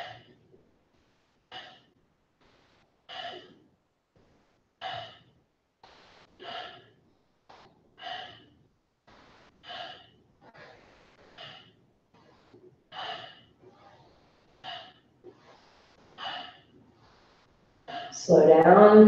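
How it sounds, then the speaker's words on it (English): Alternate nostril breathing during a morning yoga practice: a long series of short, regular nasal inhales and exhales, close and isolated, ending in a louder burst of sound. "Inhale right, exhale left."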